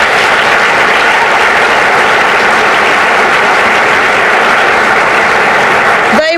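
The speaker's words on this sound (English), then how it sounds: "I think we need to give them another round of applause." A high school audience at an academic excellence awards night gives a show choir a loud, continuous wash of applause that stays even and unbroken throughout, ending with a short rising sound right at the close.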